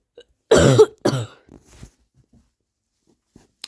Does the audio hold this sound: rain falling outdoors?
no